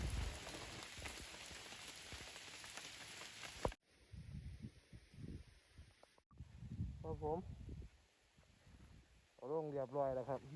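Steady heavy rain pours down with a dense patter on surfaces, while someone speaks intermittently in Thai over it, close to the microphone.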